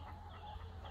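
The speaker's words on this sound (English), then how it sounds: "These are very well-read chickens." Chickens clucking in a steady, muffled stream under a constant low hum, with no clear individual calls standing out.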